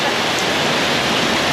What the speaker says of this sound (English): now it's raining like cats and dogs